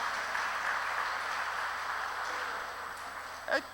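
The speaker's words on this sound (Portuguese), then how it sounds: "Vamos aplaudir ao Senhor pelas mulheres." Congregation applauding in a church service, a steady wash of many hands clapping together at moderate distance, fairly even throughout with a brief louder burst near the end.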